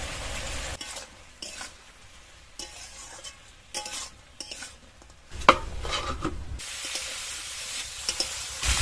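Pumpkin and potato being stir-fried with pre-fried small crabs and chilli powder in a wok, with intermittent scraping and pressing strokes of a spatula over a low sizzle, broken by brief pauses and a louder burst toward the end.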